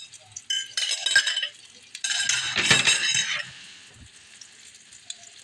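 A spoon or utensil stirs and scrapes an omelette in a pot, giving bursts of clinking metal scraping and a light sizzle, loud and close, then tapering to quiet with a few faint knocks.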